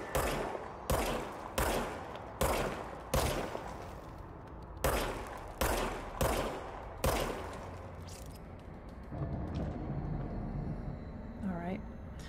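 Service weapon gunfire in the video game Control: a string of loud, evenly spaced booming shots, then a sustained rumbling game ambience with a faint rising tone near the end.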